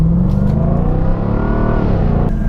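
A 2020 Jaguar F-Type R pulls away from a pub car park, its engine rumbling loud and close in a steady, continuous rev with a brief change in tone near the end.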